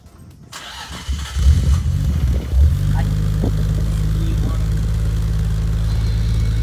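A supercar from a Japanese supercar collection cranks and fires up, its engine catching with a rough burst before settling into a deep, loud, steady idle, with a voice briefly audible nearby.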